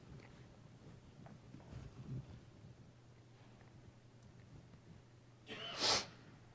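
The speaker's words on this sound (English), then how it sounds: "Sorry, sniffles are coming back now." One quick nasal sniffle near the end from a presenter during a conference demo of agile project tools, brief and fairly close over a quiet room.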